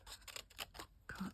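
Scissors snipping paper for a junk journal page, giving a few quick close crisp cuts in a short burst, with no talking.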